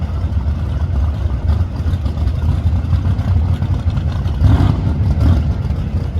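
A big block turbo drag car with 20-degree heads and an Ultratech engine roars down the drag strip, a loud, steady engine drone that swells briefly near the end.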